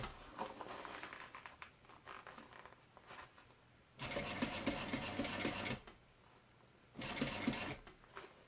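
A sewing machine stitching a mini backpack runs in two loud bursts of rapid, even stitching, each a couple of seconds long, between quieter handling and faint rustling.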